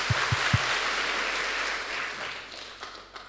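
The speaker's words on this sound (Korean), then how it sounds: "우리 박수 한번 칠까요?" A congregation at a church lay believers' convention applauds, giving a diffuse, fairly faint wash of clapping. A few low thumps come early, and the clapping fades toward the end.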